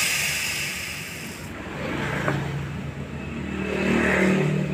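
LPG gas forced through the oil-clogged pipes of a Polytron two-door refrigerator, a loud continuous rushing hiss that swells, eases and then builds again with a gurgling, whirring undertone.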